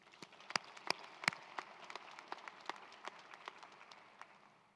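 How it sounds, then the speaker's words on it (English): Light, scattered applause from a sparse commencement audience at a college of education graduation ceremony, individual claps standing out in an uneven patter, faint and distant throughout. "Let's please give them a round of applause."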